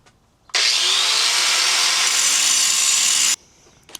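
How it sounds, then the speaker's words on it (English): Angle grinder roughing down saw ridges on wood: a loud, steady high-pitched grind that starts abruptly, holds for about three seconds and cuts off sharply, close up with no voices. "So we're going to see how well the angle grinder does."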